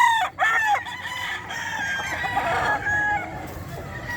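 A Boston Roundhead rooster at the Bocaue pet market crows loudly and at length, its long drawn call standing over a steady hum of crowd and market noise, with other fowl clucking around it.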